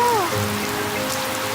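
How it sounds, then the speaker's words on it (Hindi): Cartoon water spraying from a garden hose in a backyard scene, a steady hissing spray with patter like rain on a surface that runs the whole time, heard right after a short voice at the start. "पेपा ने पाइप पकड़ी और डैडी पिग ने पानी शुरू कर दिया।"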